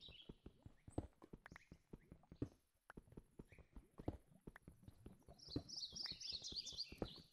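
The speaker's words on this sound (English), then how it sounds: "These bird noises need to chill out." Birds chirp in a Minecraft video game, high twittering calls that build to a busy flurry near the end, mixed with rapid footsteps and tapping clatter, fairly quiet overall with no talking.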